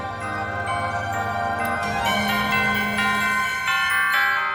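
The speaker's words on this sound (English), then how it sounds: "Bells?" Bright, ringing bell tones sound in layered chimes over sustained musical notes, steady and fairly loud throughout, from the Kirby and the Forgotten Land soundtrack.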